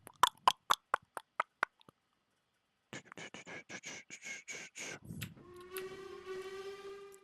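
Highland Valley Railway train: a run of sharp clicks, then a quiet gap, then a burst of rapid rough chuffs that gives way to a sustained tonal whistle.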